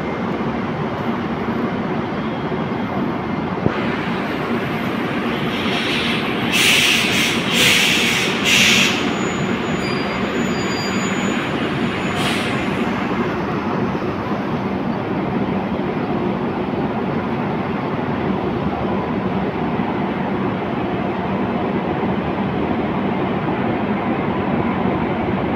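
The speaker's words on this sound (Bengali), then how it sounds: "চলো ট্রেনের একটা সুন্দর ডিপারচার তুলে ধরি তোমাদের সঙ্গে" The Okha Dwarka Express pulling out of a station, a loud continuous rumble of wheels and carriages rolling past for the whole stretch, with a brief high squeal or whistle early on and no voices.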